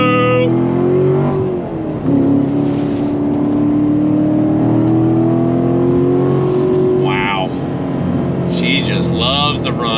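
A Corvette C7 Stingray Z51 Premiere Edition with a 7-speed manual accelerates hard, its loud close engine note climbing steadily in pitch through the gears. A voice talks briefly under the engine noise.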